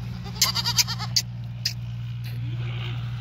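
A Teddy goat in a village yard gives several short, close bleats in quick succession over a steady low hum, then falls quiet.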